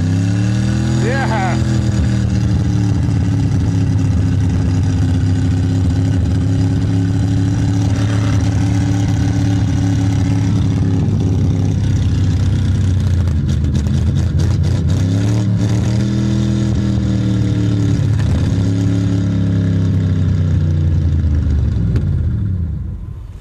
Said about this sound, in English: Well, she's a good motor.